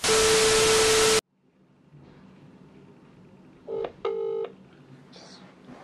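Telephone keypad tones dial out to place a call, a short burst of distinct beeps after a loud blast of static, then a brief electronic chirp, all fairly faint against quiet room noise.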